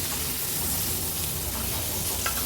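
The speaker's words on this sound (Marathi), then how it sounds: "हे बघा, मागच्या बाजूनी पण अगदी व्यवस्थित हे पापलेट फ्राय झाले आहे" Pomfret stuffed with coriander and mint frying in a pan, a steady, fairly quiet sizzle of hot oil that runs unbroken, with a faint tap near the end.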